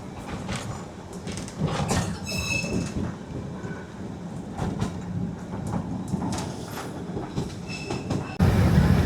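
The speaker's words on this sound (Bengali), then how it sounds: "ট্রেন পুরো সুকনা ফরেস্টের ভিতর দিয়ে এখন ছুটে চলেছে" The Darjeeling toy train rattles through Sukna forest on the Gayabari jungle ride, wheels clacking and squealing on the rails in a continuous rolling rumble, close and fairly loud, with a sudden louder rush at the end.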